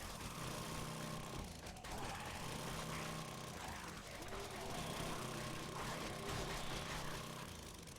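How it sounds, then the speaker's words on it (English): An auger tool in the video game 7 Days to Die runs continuously with a rough, grinding mechanical buzz, dense and loud throughout, with game background noise mixed in. "Well, let's try an auger."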